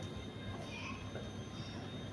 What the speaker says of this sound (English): About to depart now is the ScotRail service from Glasgow Queen Street to Edinburgh Waverley